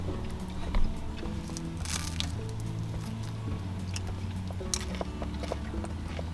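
Someone bites into and chews a ready-made eggplant roll from a supermarket counter, with soft, squishy crunches up close and a sharper bite near the start, followed by scattered moist chewing sounds.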